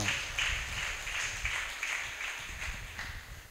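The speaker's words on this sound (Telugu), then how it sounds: "చప్పట్లు కొట్టి దేవుని నామాన్ని గణపరుద్దా" A church congregation claps hands in a steady rhythmic beat, crowd-sized and a little distant, with some faint voices mixed in.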